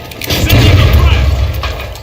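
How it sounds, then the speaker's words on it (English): A frag grenade goes off in an online shooter match, a loud, dense boom with a rumbling tail lasting about two seconds. "Sending a frag."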